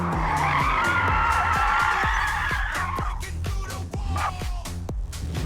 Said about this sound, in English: I spin the car around.